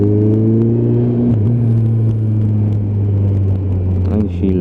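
GTR motorcycle on Pirelli tyres leaning through corners, its engine a steady loud drone held close throughout, with a brief dip in pitch partway as the throttle eases, then continuing alone.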